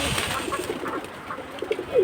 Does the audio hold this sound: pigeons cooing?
yes